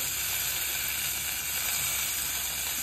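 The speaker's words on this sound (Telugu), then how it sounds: "ఇక్కడ దొండకాయలు ఫ్రై అయిపోయాయి." Ivy gourds sizzle in hot oil in a pan with a steady, dense, close frying hiss that holds even throughout, with no talking.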